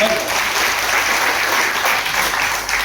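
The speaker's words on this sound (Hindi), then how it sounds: "एक बार जोरदार ताली भाई की।" A crowd at a marketing-plan seminar breaks into loud, dense, continuous applause that fills the whole stretch evenly, close and sustained with no pauses.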